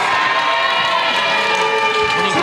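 Wrestling crowd at an ICW tag team championship match cheering for the Hispanic Mechanics, a steady dense roar of many voices with shouts, filling the arena continuously at moderate loudness.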